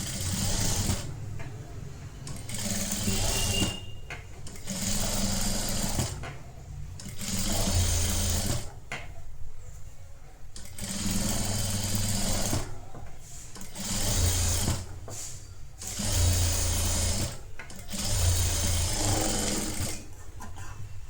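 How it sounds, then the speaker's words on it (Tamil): A sewing machine stitches net fabric onto a blouse in repeated loud bursts of whirring, a few seconds each, broken by short pauses. "அதுக்கப்புறம் கீழேயும் ஒரு ஸ்டிச் போட்டுக்கோங்க."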